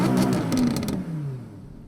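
A sports car engine in its normal drive mode roars as it starts and revs, then its tone drops and settles into a steadier idle-like hum, close and fairly loud with no talking.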